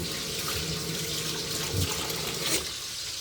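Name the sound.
water running in kitchen sink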